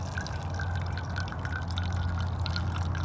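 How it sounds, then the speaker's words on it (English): Water poured slowly over coffee grounds and dripping through, a close, steady liquid trickle with faint drips held at an even level throughout. "I like to pour it slowly. Let it slowly drip through the grounds."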